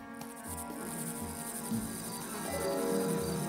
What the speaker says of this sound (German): Und dann kamen die Heuschrecken.